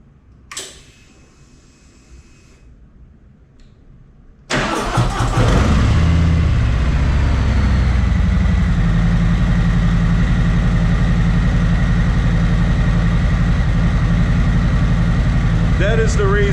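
A Harley-Davidson Street Glide Special motorcycle in a garage cranks and fires, then settles into a steady, loud, low idle rumble that runs to the end after a quiet lead-in.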